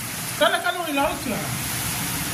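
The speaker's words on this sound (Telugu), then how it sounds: "ఘోరంగా పడుతుంది వర్షం." Heavy rain falls outside a home in a steady broadband hiss, with a person briefly speaking over it before the downpour continues alone.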